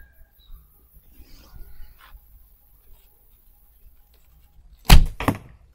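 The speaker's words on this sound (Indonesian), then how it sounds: "berikutnya kita coba tembakan ketiga" An archery arrow is shot at a target, with two quick sharp impacts close together near the end after several seconds of faint near-silence and small handling noises.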